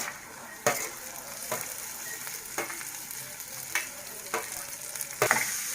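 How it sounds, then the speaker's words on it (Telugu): Fenugreek leaves, onion and broad bean seeds fry in oil with a continuous close sizzle, broken at a regular pace by spatula scrapes and clicks against the pan. "మెంతికూర కూడా ఉల్లిపాయతో చక్కగా వేగింది"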